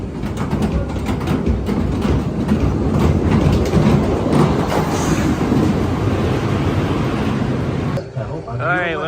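Great White, a roller coaster running GCI trains at Morey's Piers, roars past in a loud, continuous rush of wheels with clattering track noise. It cuts off abruptly near the end, and voices are heard.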